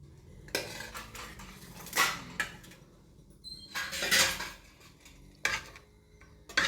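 A metal ladle and utensils clink against pots and dishes while onion and egg curry is served, with sharp, scattered clanks and scrapes coming close and fairly loud amid quiet kitchen stillness.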